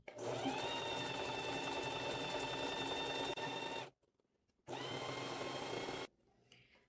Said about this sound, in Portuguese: A máquina puxar o tecido e vai costurando.